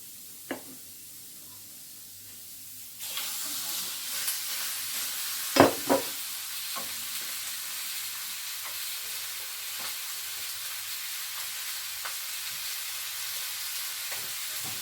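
Chicken added to onions frying in a pan for native chicken tinola sets off a soft, steady sizzle, with occasional stirring knocks and scrapes against the pan.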